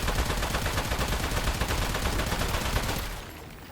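Rapid gunfire in a video game, a loud, unbroken stream of automatic shots that fades out abruptly near the end, with no talking.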